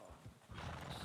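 A horse in a role-play video game whinnying and snorting faintly, with hoof clopping and movement noise rising in the second half.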